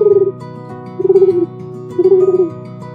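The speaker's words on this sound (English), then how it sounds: "Pigeons can fly high in the sky and have a soothing cooing sound." A pigeon coos close by in three low, soft, rolling calls spaced about a second apart, alone with no talk.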